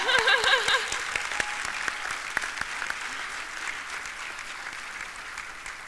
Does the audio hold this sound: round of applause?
yes